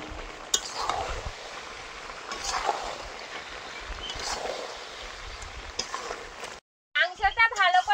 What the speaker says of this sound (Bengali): মাংসটা কষানো প্রায় হয়ে গেছে, এবার ভেজে রাখা আলুগুলো দিয়ে দেবো,